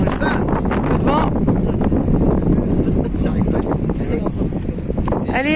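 Strong wind buffeting a boat's microphone while leaving Guadeloupe by sea, a loud steady roar with gusty rumbles and splashes throughout, and voices faintly present.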